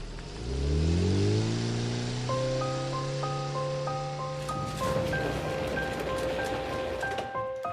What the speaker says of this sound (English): a small car disappeared into the distance